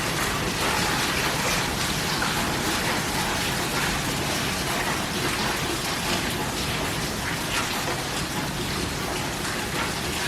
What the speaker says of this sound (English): That is hail balls.